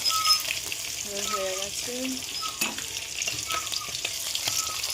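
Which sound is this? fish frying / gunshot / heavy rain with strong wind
fish frying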